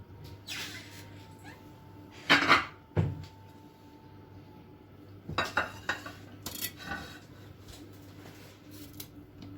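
Several sharp knife strikes on a cutting board in short clusters as a tomato is chopped, with clinks of kitchenware between them and low background hum; no talking.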